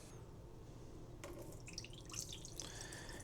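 Rinse water is poured off rinsed rice into a sink, faint dripping and splashing trickles near the end of a quiet stretch, close.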